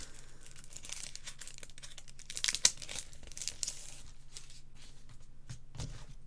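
Sticker sheets being peeled and handled at close range, giving a steady run of soft crinkling and crackling with one sharper tearing rip midway, and no voices.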